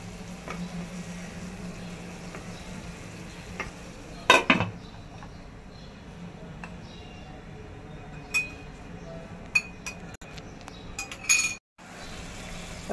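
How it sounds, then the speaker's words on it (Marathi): Green peas cook over low heat in a pan while a utensil stirs them, giving occasional sharp metallic clinks and scrapes over a faint, steady background hiss. "आणि मंद गॅसवर आपण हे मटर थोडे शिजवून घेऊया."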